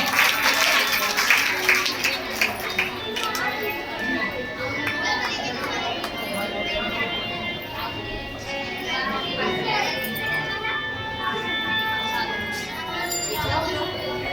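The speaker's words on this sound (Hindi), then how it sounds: "सभी माताओं को तालियां बजानी है" At a Bhagwat Katha gathering in Panchkula, mothers in the audience applaud in a rapid, thick burst over the first couple of seconds. Murmuring crowd noise and children's voices follow.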